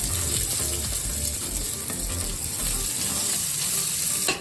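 Onions fry in oil that was first infused with garlic, giving a dense continuous sizzle with crackling and some scraping, loud and close, with no talking.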